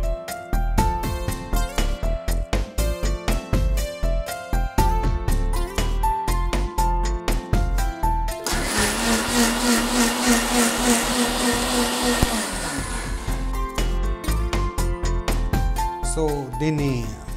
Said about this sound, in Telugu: సో ఈ మిక్స్చర్ని మనం మిక్సీకి వేసి గిరా తిప్పేద్దాం